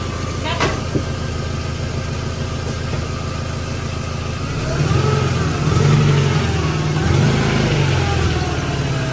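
A 2000 Volkswagen Golf MK4 with a 2.0L engine and a newly replaced clutch idles steadily, then the engine note rises and wavers as the car backs up, close and fairly loud.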